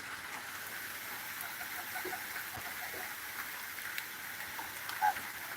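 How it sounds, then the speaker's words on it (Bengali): Steady storm rain in Khulna-Bagerhat, Bangladesh, pattering on a surface, a soft continuous wash of drops with a faint high hiss and no voices. "আমরা ভিডিও লাইভের মাধ্যমে আপনাদেরকে ঝড় বৃষ্টি শেয়ার করতেছি"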